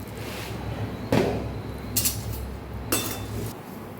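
Puffed rice rustles and rattles as it dry-roasts in a pan, with a few sharp scraping strokes of a spoon against metal over steady low background noise.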